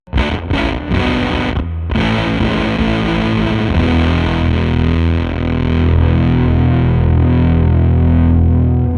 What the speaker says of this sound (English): That is a sick gated fuzz sound.